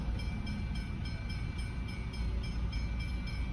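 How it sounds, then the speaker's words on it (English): A passenger train rumbles past a railway crossing in Australia, a continuous low roar and rattle of rolling stock with no voices, holding loud throughout. "Might be the passenger train for Adelaide."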